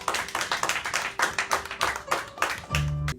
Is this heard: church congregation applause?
yes